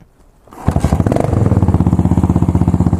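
A motorcycle engine fitted with exhaust heat wrap cranks over and catches, then settles into a steady, loud idle with a quick rhythmic putter.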